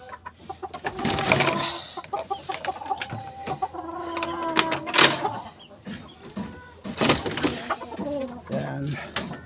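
Chickens kept as backyard poultry cluck repeatedly and irregularly at close range while a person talks over them during cleaning of their pen with a soapy rag and water.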